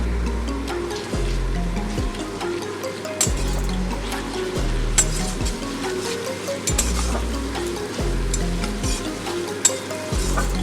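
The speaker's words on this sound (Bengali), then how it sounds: "ভালো করে আমি কষিয়ে নেব" Ginger and garlic paste sizzling and frying in a pan with chopped onion, steady close crackle with periodic stirring scrapes, no talk.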